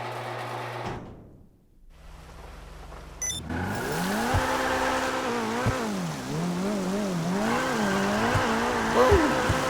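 A Corvette-style supercar in GTA Online, heard from the cabin, goes quiet at first, then its engine kicks in and revs loud and close, the pitch rising and falling through sustained throttle.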